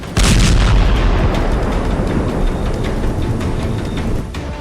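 A massive blast at a Syrian missile depot in Tartus, struck by Israel, rolls out as a loud, close rumbling boom. A sharp onset is followed by a sustained crackling roar that fades slowly.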